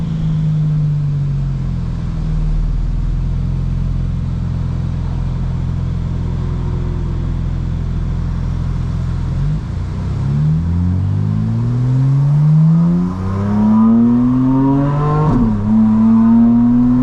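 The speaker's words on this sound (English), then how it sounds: "The car just sounds special" A 2025 BMW M4 CS engine, tuned to 900 horsepower, hums steadily, then revs upward through rising gear-like sweeps, growing louder and more aggressive toward the end.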